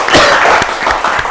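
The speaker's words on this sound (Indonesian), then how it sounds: "kita tepuk tangan dulu untuk kita semua" A classroom group applauding together in a brief, loud burst of clapping.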